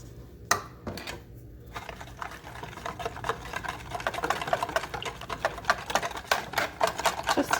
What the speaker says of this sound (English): So we are going to put it all into a container, whisk it all up,